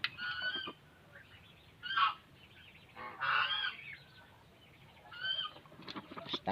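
Brahma chickens call out in several loud, honking clucks and squawks, separated by short pauses and heard fairly close against quiet farmyard background.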